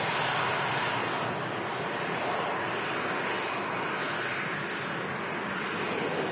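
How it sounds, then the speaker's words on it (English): A Ryanair Boeing 737-800 jet departing Manchester Airport makes a continuous broadband roar, steady and fairly loud from a distance, with no talk over it. "That Ryanair 737-800 series heading off to Budapest."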